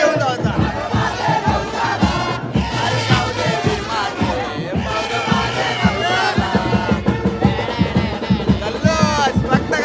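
A large crowd roars and shouts in jubilation as a goddess Dronagiri palanquin is carried to the temple during a village festival procession, loud overlapping voices and cries, continuous and close.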